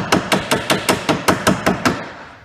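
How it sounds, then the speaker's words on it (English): Ball peen hammer mushrooming the end of a nail into a rivet head, about ten light bouncing taps in an even, quick rhythm, close and crisp, each ringing briefly before the next. "I'm just kind of bouncing it off using the weight of the hammer itself."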